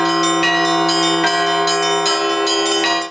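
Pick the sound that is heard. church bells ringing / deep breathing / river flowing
church bells ringing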